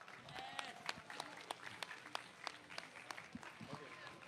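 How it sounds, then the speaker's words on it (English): Applause from an esports audience at a grand finals event honouring the winning team, with rapid claps spread throughout and crowd noise beneath, moderately loud and continuous. "shall we give them one more round of applause?"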